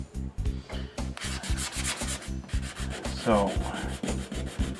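Sanding epoxy on a plywood canoe hull by hand, a close, steady rhythm of rasping back-and-forth strokes about four per second, continuous and moderately loud, with a brief spoken word at the start.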